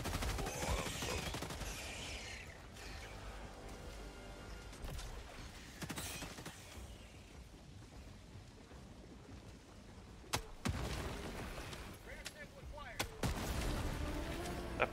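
Gunfire in the Helldivers 2 video game crackles throughout, dense volleys and bursts with a few sharp loud shots standing out near the end, mixed with game effects and players talking over it.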